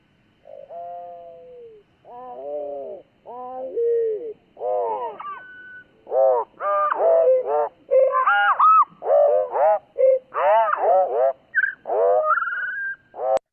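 A bird's song played at about quarter speed, becoming a series of low, drawn-out warbling whistles and swoops, starting sparse and growing denser and busier.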